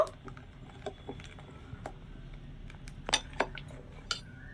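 Water is being mixed into a semolina batter in a bowl, giving quiet, scattered clinks of a spoon against the dish over a soft background hum.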